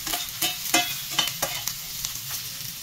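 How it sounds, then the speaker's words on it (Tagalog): Onion and garlic sauté in butter and olive oil with a soft sizzle, punctuated by a series of light, regular scraping and stirring strokes against the pan, close and moderately quiet. "ilagay na natin yung onion, garlic"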